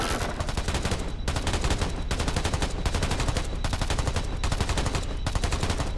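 Sustained rapid gunfire from the video game Black the Fall, a dense automatic stream broken by a few short pauses, steady and loud with no voices over it.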